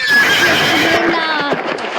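In a Roblox prison obby game, a horse gives one loud, close whinny that wavers and trails off over a couple of seconds, with a voice speaking faintly underneath.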